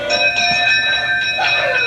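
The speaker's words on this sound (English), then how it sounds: "The doorbell rang." A doorbell rings in the mystery comedy film Clue, a bright sustained chime ringing clearly for about two seconds with no talk.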